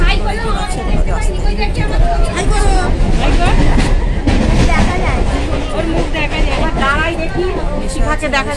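Train ride with a group of friends, a loud constant rumble and rattle of a moving carriage with rhythmic wheel clatter, overlaid by people chatting and a noisy babble of passengers.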